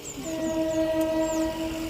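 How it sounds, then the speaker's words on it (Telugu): A train horn sounds in a steady sustained tone over a continuous rumbling background as a train draws near. "ఇప్పుడే ట్రైన్ వస్తూ ఉంది"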